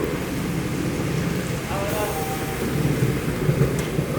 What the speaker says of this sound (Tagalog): Kahit malakas ang ulan, sumusugod sila sa malakas na ulan.